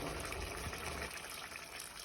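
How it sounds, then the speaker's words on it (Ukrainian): Water poured into a pan of cooked onions and frozen carrots for plov, a faint, brief gush of liquid that fades after about a second into quiet kitchen background. "Заливаємо водою."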